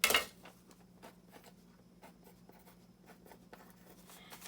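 A pen writing numbers on a cardboard box being measured for shipping, quiet scratchy strokes in short bursts after an initial louder knock, close and soft.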